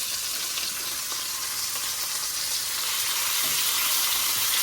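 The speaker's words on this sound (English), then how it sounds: "That sizzle is what you're looking for." Tomahawk steaks sizzling in hot oil in a cast-iron pan, a loud, steady hiss of frying that holds throughout and grows slightly louder toward the end.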